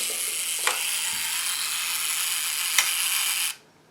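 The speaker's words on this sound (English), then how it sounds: "See if we can show you the action of the shutter." A steady mechanical whirring runs for several seconds, broken by two sharp clicks, then cuts off abruptly, as a Zorki 4 rangefinder film camera's delayed-action self-timer winds down to release the shutter.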